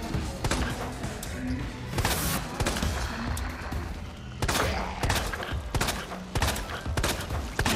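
Pistol shots in the Resident Evil 2 remake crack out in a sharp, irregular series, close and loud over a rumbling game background.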